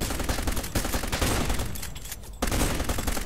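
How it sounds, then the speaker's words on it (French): Rapid gunfire from bots in the shooter game Cube Conflict, dense and loud bursts of shots rattling almost continuously with a brief lull near the end before firing resumes. "des bots qui tirent comme des tarés"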